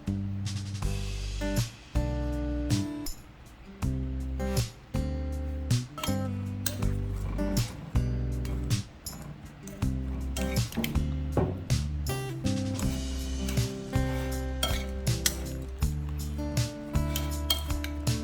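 Japanese salt and pepper seasoning mixed into eggplant pieces in a bowl before air frying, with steady clinking and scraping of utensil against the bowl in an irregular rhythm, close and clear.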